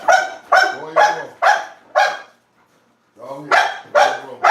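A dog barks loudly and repeatedly at close range indoors, about eight sharp barks in two quick runs with a brief pause between, with no other talk.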